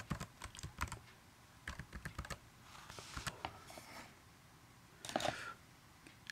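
A password is typed on a computer keyboard, a quiet, close run of irregular key clicks with brief pauses between bursts.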